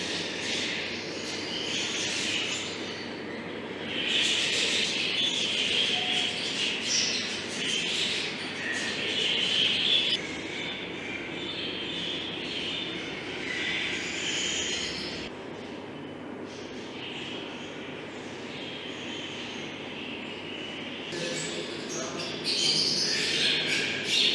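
Many small birds (parrots, finches and budgerigars) in a zoo chirp and squawk together in a dense, continuous chatter, with occasional louder calls rising above the flock.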